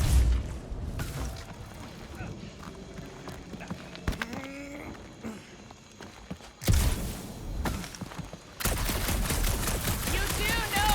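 Blaster fire from a character in Guardians of the Galaxy, heard as a burst of sharp rapid shots in a dark alien setting. It loudens in dense volleys toward the end, with game effects and a voice under it.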